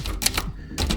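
A typewriter's keys clack twice, sharp and close, with a mechanical shift of the carriage between the strikes.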